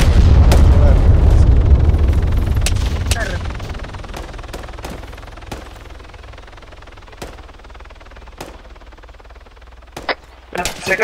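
Heavy bursts of Arma 3 gunfire and explosions open the clip, then thin out into scattered sharp shots over a low rumble.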